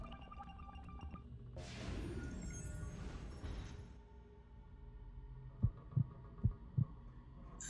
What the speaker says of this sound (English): I hear a heartbeat